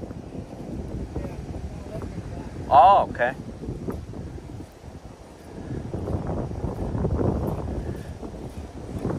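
Wind blows steadily across the Lehigh River on a windy morning, a broad rushing noise that swells and eases. A brief bird call cuts through partway, and a person speaks briefly.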